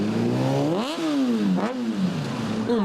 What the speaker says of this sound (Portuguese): centenas de carros, ônibus, motos e seus sons ensurdecedores